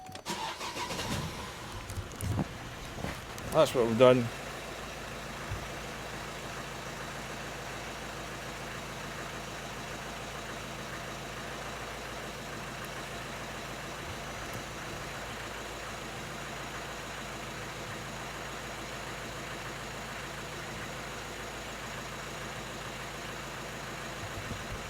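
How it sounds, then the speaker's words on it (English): A 2013 Vauxhall Astra J 1.7 CDTi diesel cranks and fires up after a fuel pressure regulator learn, then settles into a long steady idle; a brief voice speaks near the start. "run engine at idle."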